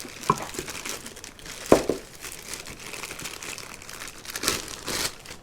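Plastic packaging crinkles and tears as an aftermarket car suspension ball joint is unwrapped, with close, irregular rustles and a few sharper crackles.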